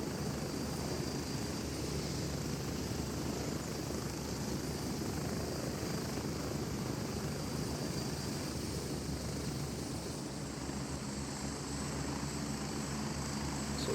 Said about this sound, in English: there's a lot going on, a lot of helos coming in